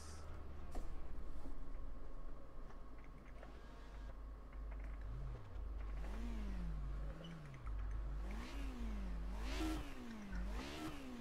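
A car in a racing video game revs through a rising and falling engine note that climbs in repeated surges as it shifts gears, steady and moderately loud over a low hum with no voices.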